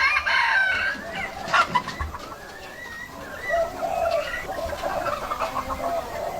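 Wild junglefowl cluck and crow outdoors, a few nearby rising crow calls and short clucks over a faint background hiss, with no talking.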